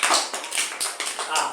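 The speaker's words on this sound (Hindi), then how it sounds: "तालियां बजाओ" Children clap in a classroom, a ragged run of quick, close claps in short bursts with brief gaps, while voices are heard among them.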